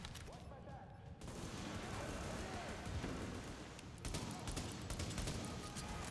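Pistol fire in the video game Tom Clancy's The Division, dense bursts of shots continuing throughout under steady game noise and player chatter.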